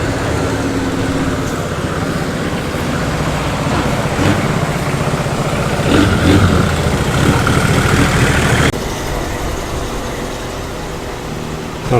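An MGB classic car idles at an evening car meet, its engine giving a steady, fairly loud rumble that holds throughout, with outdoor ambience behind it.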